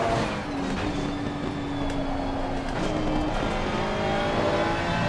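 A race car laps Spa-Francorchamps in a racing video game, its engine droning loudly and steadily while the pitch climbs and drops through gear changes, with hints of tire squeal.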